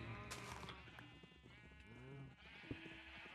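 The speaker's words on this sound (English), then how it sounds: "Get out of the way, sheep." Sheep bleat a few times in Minecraft with the Enigmatica 6 modpack, the calls soft and fairly close among the faint hum and clicks of the game.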